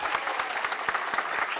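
Steady applause from a seated audience after a short lightning talk at a tech gathering, dense clapping sustained evenly throughout, fairly distant and moderate in level, with no speech over it.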